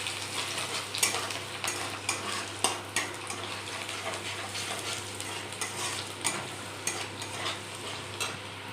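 Chopped ginger and garlic frying in a pan, a steady close sizzle with regular scraping knocks of a spatula stirring against the pan, no voices.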